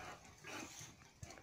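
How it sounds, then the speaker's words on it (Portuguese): A pitbull dog, heard faintly and briefly, makes low snuffling and grunting sounds up close in a quiet setting. "Esta é a Puca Pitbull e este é o cão mau."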